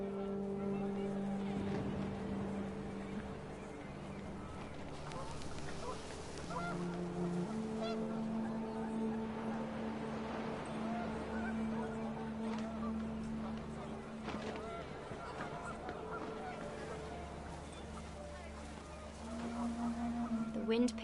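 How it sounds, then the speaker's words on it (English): Panicked geese in What Remains of Edith Finch honk repeatedly at mid-distance amid gusting wind and a low rumbling background, with a person talking over parts of it. "The wind picked up, and panicked geese appeared and quickly went."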